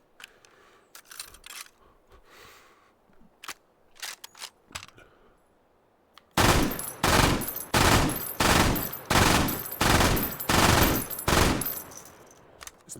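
A belt-fed machine gun fires in the video game Tripods: after a few quiet mechanical clicks of handling, loud, close bursts of rapid gunfire repeat about eight times in a fairly even rhythm.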